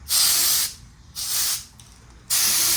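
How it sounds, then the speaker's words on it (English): Compressed air blasts metal shavings off welded pipes in a workshop: three loud, close hissing bursts separated by short gaps, with no voices. "If you have compressed air, now's the time to use it."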